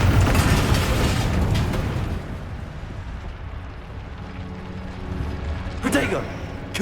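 Video-game spell explosions from the Confringo curse in Hogwarts Legacy: a loud blast that rumbles and fades, then a second sharp burst near the end, with battle shouts overlapping.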